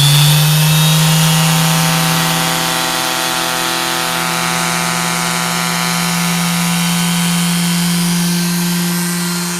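A DCK 3.0 amp corded 5-inch palm random orbital sander with variable speed runs on rough wood, giving a loud steady motor whine and buzzing hum throughout, easing slightly in pitch, with no talking.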